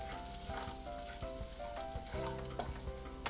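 Bacon fries in oil with coarsely ground pepper in a frying pan, giving a close, steady sizzle with crackling pops and the occasional clink of a utensil against the pan.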